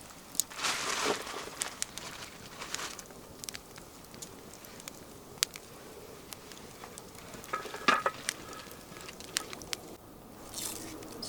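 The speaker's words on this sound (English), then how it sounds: "I'll chop up some onion. Fry that off." Chopped onion frying in a pan over a campfire outdoors, a steady soft sizzle broken by irregular scrapes and clicks of stirring, close and fairly quiet throughout, with no one speaking.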